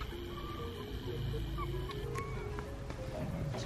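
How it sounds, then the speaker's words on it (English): Chickens clucking and honking in a steady chorus, fairly close, with occasional sharper calls and no talking. "Chickens laughing at me."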